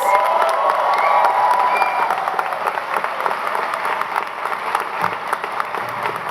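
Large audience at an engineering management graduation hooding ceremony gives graduates a sustained round of applause, with cheering and a few shouts mixed into the steady, crowded clapping.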